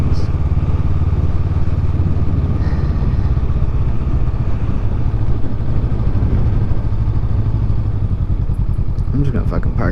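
A motorcycle engine idles close by, a low steady rumble with mechanical clatter running the whole time and a brief rise near the end.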